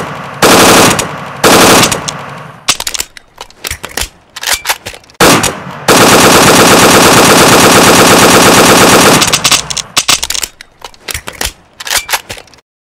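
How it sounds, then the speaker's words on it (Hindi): AK rifle fire from the video game PUBG, loud close bursts of rapid automatic shots, short volleys broken by gaps, then one long sustained burst before more short bursts, no talking. "अब हम यूज़ करेंगे AK-40"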